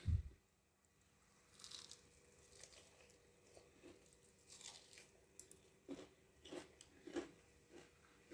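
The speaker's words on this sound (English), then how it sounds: "you can hear that crunch" Crunchy bites into fried chicken wings, chewing close up, scattered crackles and soft crunches at an irregular pace in a quiet room.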